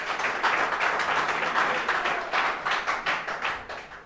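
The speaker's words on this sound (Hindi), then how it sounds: "बात ताली बजाइए इनके लिए।" Students in a physics classroom clap together in a brief round of applause, a loud burst of many hands that comes in uneven waves and tapers off by the end, with no speech over it.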